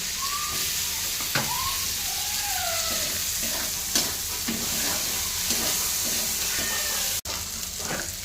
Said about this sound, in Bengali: এবার দেবো টমেটো কুচি